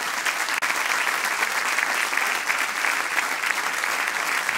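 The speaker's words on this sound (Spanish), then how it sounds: "Un aplauso," A church congregation at the 46th anniversary service of Tabernáculo La Voz de Dios in Santiago, Chile, claps in steady, dense applause that fills the room without letup.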